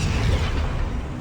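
A fire spell cast in Hogwarts Legacy on PS5 gives a loud, steady burst of whooshing flame. It carries strong low rumble and holds for about a second with no talk.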